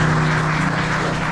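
Church congregation clapping loudly together in a dense, steady wash of applause over a low hum, lasting only a moment.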